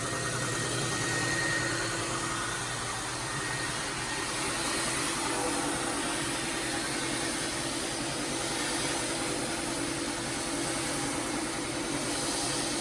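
An air compressor feeding a home media blast cabinet hums at a steady, unbroken drone, close and moderately loud, with no talk over it.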